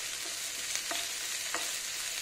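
Finely chopped onion frying over a low flame in a pan for a malai ghiya (bottle gourd) curry, giving a steady soft sizzle with occasional stirring scrapes, close and alone.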